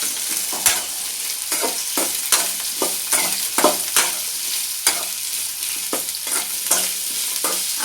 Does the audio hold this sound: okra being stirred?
yes